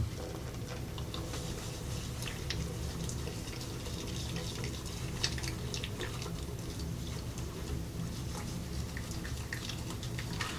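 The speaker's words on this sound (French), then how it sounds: "J'ai mouillé mes mains." Water running from a tap over wet hands at a sink, a steady close splashing stream that continues without pause and without talking.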